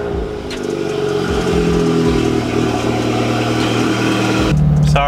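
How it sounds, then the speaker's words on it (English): A BMW M3 engine revs loudly and steadily before dawn, a deep sustained growl that rises in pitch near the end, heard close up with no talking. "The car's just super loud."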